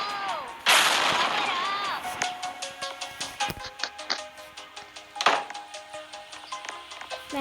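Rocket blasts and explosions in the Roblox game Build a Boat: a loud boom, then a string of sharp, repeated impact thuds and another big blast, with electronic game tones in the background.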